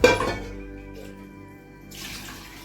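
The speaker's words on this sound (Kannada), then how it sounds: "ಇದಕ್ಕೆ ಸ್ವಲ್ಪ ಕುಕ್ಕರ್ ತೊಳೆದ ನೀರು" Rinse water from a pressure cooker pours into drumstick sambar in a North Karnataka kitchen, a short close splash at the start that settles into a soft steady trickle, with no talking.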